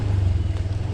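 A motorcycle engine thrums steadily up close, a low pulsing drone with no pauses.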